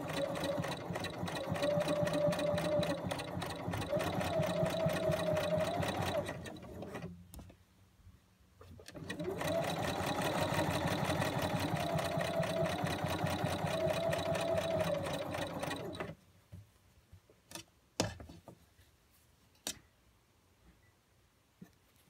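A sewing machine stitches a quilt strip onto a square in a two-tone beginner constellation quilt, running steadily in two long close bursts separated by a brief pause, then a few faint clicks and handling sounds as it stops.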